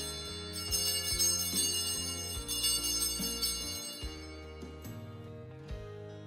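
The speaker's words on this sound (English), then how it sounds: "the candle bearer again rings the bell 3 times" An altar bell rings at Mass in three clear, bright strikes, each one ringing out and fading into a lingering metallic shimmer, heard alone without talk.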